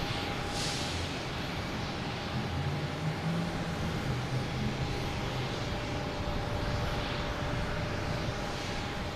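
A jet taking off at Boston Logan Airport after dark roars steadily from a distance, a broad continuous rumble with a thin whine over it, no voices.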